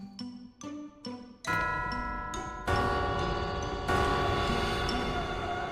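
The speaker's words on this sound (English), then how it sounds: "As the eerie sound of the bells fades away, nothing happens." Eerie bells ring in the Western video game West of Loathing: a few separate struck tones, then overlapping peals that stack into a sustained, shimmering wash that keeps ringing.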